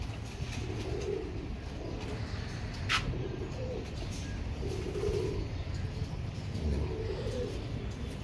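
A ringed Royal Teddy pigeon hen and her mate coo in soft, rolling bursts spaced a couple of seconds apart, low and close over a constant background hum, with one brief sharp noise partway through.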